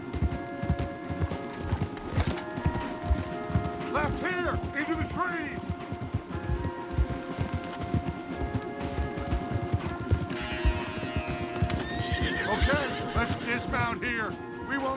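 Hooves of several horses clip-clop in a fast, steady gallop in Red Dead Redemption 2, with occasional whinnies, running under music and voices.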